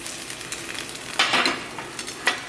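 A sausage omelet sizzles softly in a pan on the stove, a steady hiss broken by a few short, louder bursts as it is stirred or flipped, with no talking.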